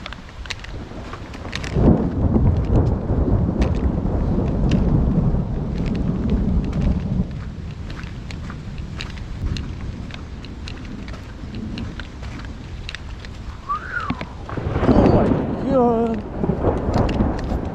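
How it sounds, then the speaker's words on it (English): A heavy thunderstorm pours down in the woods: a dense, loud wash of hard rain with rolling thunder rumbles and some wind buffeting the microphone throughout. "it's go right now while it's thundering and raining insanely hard"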